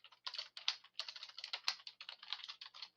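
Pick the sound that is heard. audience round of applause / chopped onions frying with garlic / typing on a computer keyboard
typing on a computer keyboard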